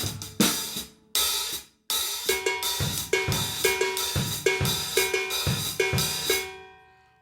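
Soca groove on a drum set with a bell, a bright cowbell ringing out on repeating accents over kick and snare in a steady, syncopated pattern, close and clear with short gaps at the start.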